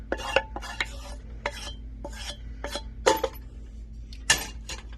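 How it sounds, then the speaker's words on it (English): Cooked rice being mixed with lentils in a pot, a spoon scraping and knocking against the metal in repeated uneven strokes, fairly close and alone. "I'm going to combine that rice with our lentils now"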